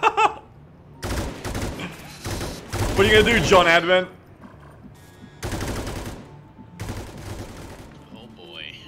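Gunfire from the video game XCOM 2 arrives in sharp automatic bursts of varying length between quieter gaps, with a person speaking in the middle of the firing.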